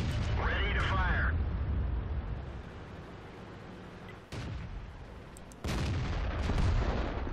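A tank cannon fires in World of Tanks from a T26E4 Super Pershing during a valley defense, giving one sharp, loud blast at the start that fades into rumbling battlefield noise, followed later by more distant thuds.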